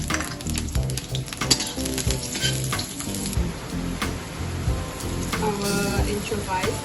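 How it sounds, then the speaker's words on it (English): Red onion and garlic sizzle steadily in hot cooking oil, a dense continuous crackle with occasional stirring scrapes, close and fairly loud throughout. "Put our cooking oil, our red onion, our garlic. So we mix it together."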